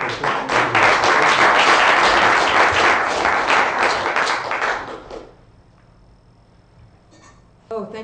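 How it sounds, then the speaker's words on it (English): Conference audience applauding a presenter, loud dense clapping for about five seconds, then cutting off into a quiet room with a brief voice near the end. "it should be the biggest applause of the conference"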